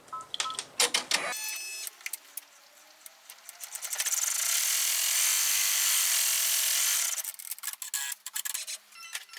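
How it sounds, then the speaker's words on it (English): An embroidery machine stitches out the second part of an in-the-hoop watermelon luggage tag, its fast mechanical needle chatter running steadily, with a sustained louder whirring passage in the middle and sharper ticking bursts at either end. "So we're going to stitch out now our part 2."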